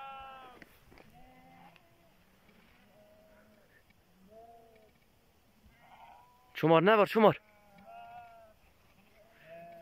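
Sheep at a highland pasture bleat a few times, each call thin and wavering, then one loud, close bleat cuts in near the end while someone talks quietly between the calls.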